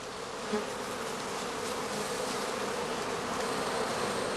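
Honeybees buzz around a straw skep hive at a heather outstand near Dorfmark, a dense, steady hum of many insects holding close and even throughout, with no voices.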